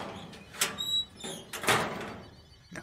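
A door opens in the Backrooms video game, several short sliding and scraping bursts with a faint high beep tone near the start, fairly close and separated by quiet gaps.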